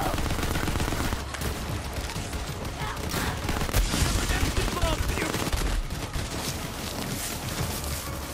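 Gunfire in Borderlands 3: dense, rapid bursts of shots pound almost nonstop, loud and close, with brief breaks and a crackling, rattling texture, and a voice speaks faintly underneath.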